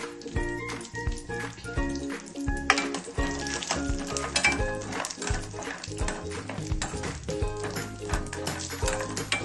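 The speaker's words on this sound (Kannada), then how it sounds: "ಈಗ ನಾವು ಅಷ್ಟು ಕಾಜುವನ್ನು ಗೋಲ್ಡನ್ ಬ್ರೌನ್ ಬರೋವರೆಗೂ ಹುರ್ಕೋಬೇಕು" Cashews fry in ghee until golden brown, giving a dense, continuous sizzle with scraping and stirring throughout, loud and close.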